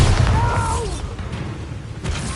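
The Bombarda spell in Hogwarts Legacy goes off as a loud booming blast with a low rumble that fades over about two seconds, plus a short whistling tone near the start.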